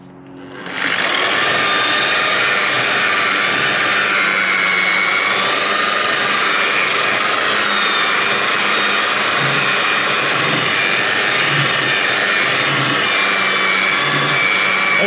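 Powered polisher buffing thin old paint on a Ford TW25 tractor, a loud, steady high-pitched whine and whir that starts abruptly and runs unbroken throughout, with no talking.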